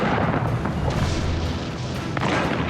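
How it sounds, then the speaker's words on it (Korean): Artillery bombardment from massed cannons on the Ardennes front in winter, a continuous dense barrage of overlapping booms and rumbling with no pauses, loud and unbroken throughout. "1900개의 대포가 포격을 시작했습니다."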